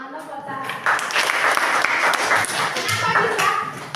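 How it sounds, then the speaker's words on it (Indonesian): A classroom of students claps together, a dense crackling patter of hands mixed with chattering voices and cheers that stays steady and fairly loud throughout. "Tepuk tangan dong buat saya."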